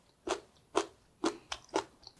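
Crisp, crunchy bites into a year-old pickled maesil plum, four or five sharp close crunches spaced about half a second apart with quiet between them.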